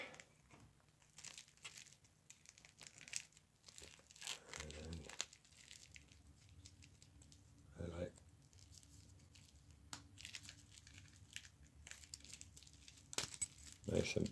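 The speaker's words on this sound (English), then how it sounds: "Unwrap the back wrap." Plastic wrap being peeled and unwrapped from the back of a new Invicta watch, close intermittent crinkling and small clicks, with a person talking quietly in between.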